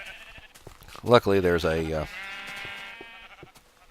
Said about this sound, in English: We have an entire rainbow of sheep.